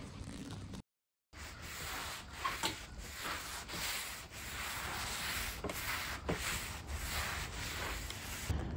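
Power sander working over an 1800s antique oak table, a steady rough rubbing whir that runs continuously near the microphone, cut off by one brief gap of silence before resuming with faint rhythmic surges.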